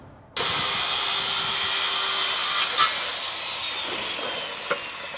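Broadband rasping cut through wooden supports for a homemade skateboard grind box, starting abruptly and holding steady and close for several seconds, with a couple of brief knocks near the end.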